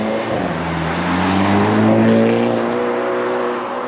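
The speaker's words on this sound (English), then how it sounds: "The engine and the exhaust sounds even better than it did before with the fresh oil" A Hyundai Elantra N engine and exhaust after an oil change with 5W-30, revving loudly up and settling back, a rising then falling drone heard close and alone.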